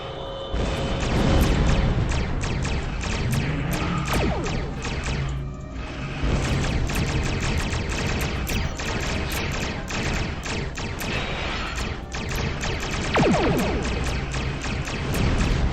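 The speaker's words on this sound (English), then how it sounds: "Things are just exploding all over the place here." Explosions in the space combat game Star Trek Online, a dense, continuous barrage of booming blasts and crashes with whooshing bursts layered over a loud rumbling background, near and without talk.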